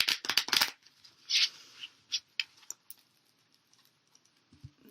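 Tarot cards being shuffled by hand, a burst of quick riffling snaps at the start followed by softer intermittent card taps and slides, close and clear with no talk.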